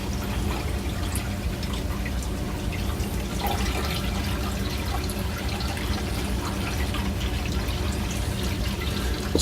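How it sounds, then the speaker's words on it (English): Water drains steadily out of the holes in a laundry bucket held above a second bucket, a constant close splashing and trickling wash that holds the same level throughout, with no voices. "And just let it drain as much as possible."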